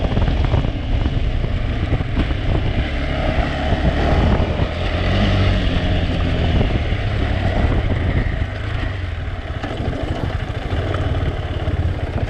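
A KTM 390 Adventure motorcycle accelerating with traction control off, engine roar mixed with heavy wind buffeting on the microphone, steady and close throughout with no speech.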